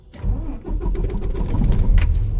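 A Kenworth truck engine cranks and fires up after a transmission fault reset, turning over briefly then settling into a steady close rumble with no talking.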